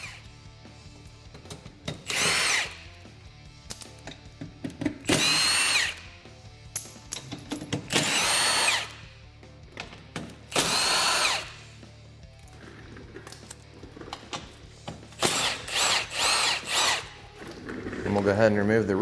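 A power tool works on the skid plate bolts of a Honda Talon 1000 side-by-side in loud, close bursts of whirring, each lasting one to two seconds and repeating about six times, with rattling handling noise between the bursts.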